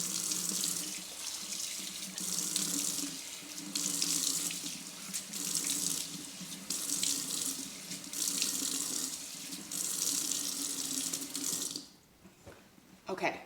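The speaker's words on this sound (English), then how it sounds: "Then you're going to rinse." A face being rinsed under a running tap gives a loud, steady splashing gush of water that stops abruptly near the end, leaving a few faint drips and handling noises.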